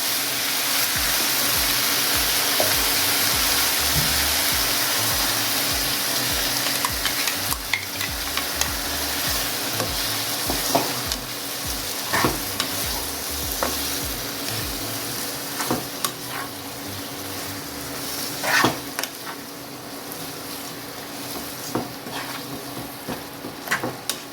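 Ground red chili and tomato paste frying in a pan for chicken rogan josh, with a loud continuous sizzle that eases slightly over time, broken by frequent spoon scrapes and clicks.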